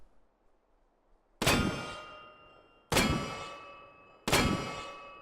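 Three loud, ringing Smith & Wesson 500 revolver shots in a VR game, evenly spaced about a second and a half apart, each with a sharp metallic crack and long decaying ring after near-silence.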